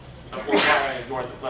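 A single short, sharp sneeze bursts out in a real estate law and ethics class while the lecturer keeps talking.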